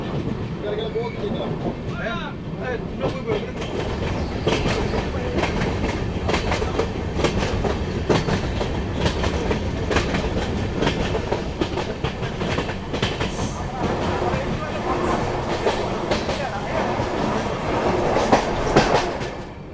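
The Rajdhani Express pulls into Badarpur Junction with a loud, continuous rumble and rhythmic clickety-clack of wheels over rail joints for about twenty seconds, with voices mixed in.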